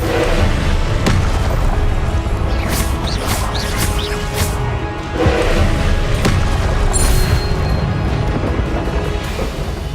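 Explosive fire spell blasts in the video game Hogwarts Legacy, loud booming bursts over a dense, roaring game soundscape, with several sharp impacts spread across the stretch and no pauses between them.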